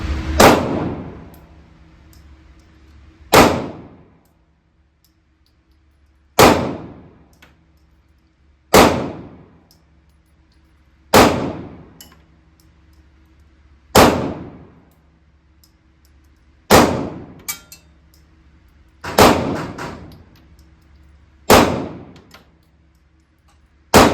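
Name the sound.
pistol shots hitting steel targets, Glock 43x or Taurus GX4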